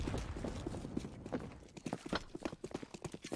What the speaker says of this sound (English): For a while, all we can hear is footsteps and gun swapping.